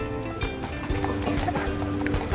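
Horses at a Baguio horse riding area clip-clop with steady, close hoofbeats, a brief whinny-like tone and faint voices in the background.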